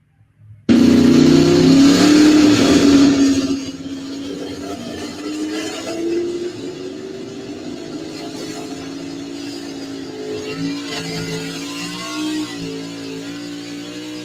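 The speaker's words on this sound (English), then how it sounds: "Here is the run from Ashton off the Ashton tractor pull page." A first-time puller's tractor engine at a tractor pull in Ashton roars loudly at high revs for a few seconds, then settles into a sustained, steady drone with a rising pitch through the rest of the run.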